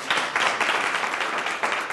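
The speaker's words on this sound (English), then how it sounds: "Let's give her a round of applause." Audience applause for a guest at a professional women's community event, a steady wash of many hands clapping that fills the short stretch without a break and never resolves into single claps.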